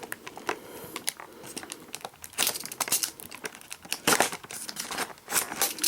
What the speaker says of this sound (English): Just look how easy it carves through the plastic.